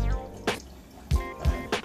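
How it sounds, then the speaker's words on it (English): Water fills a water bottle in a few short, uneven splashes and drips, close and fairly quiet, with brief pauses between the bursts. "So you see, let's fill up one water bottle."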